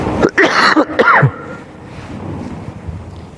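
A few harsh, sharp coughs close by in quick succession, followed by quiet background noise.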